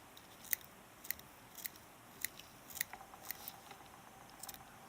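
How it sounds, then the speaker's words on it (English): Scissors trim hackle feathers in a run of small, crisp snips spaced roughly half a second apart, quiet and close in an otherwise still room. "I'm going to trim this back"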